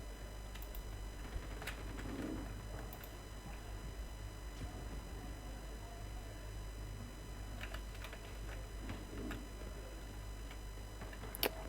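A planted bomb ticks faintly in the Turkish shooter game Sabotaj, a soft, steady tick under a constant electronic hum, with no talk.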